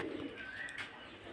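A pair of Pilong pigeons at a pigeon market coo softly, a faint low warbling coo with a brief rising call, distant and muted against a quiet background hum.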